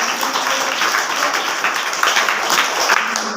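A school gathering bursts into applause, many hands clapping in a dense, sustained patter close by that carries on for several seconds and fades slightly at the end.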